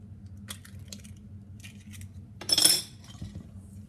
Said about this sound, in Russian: Яйцо разбиваем.